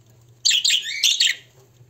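Budgerigars in an aviary give a short burst of bright, twittering chirps, two quick clusters of close, loud calls over a faint low background hum.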